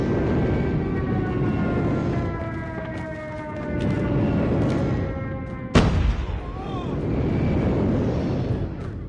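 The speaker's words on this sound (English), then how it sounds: "Friendly airstrike incoming." Airstrike explosions rumble through a Call of Duty Mobile team deathmatch, with a sharp blast cutting in near the middle over steady low battle noise and tonal game effects.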